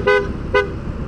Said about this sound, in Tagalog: pakinggan niyo itong loud horn natin.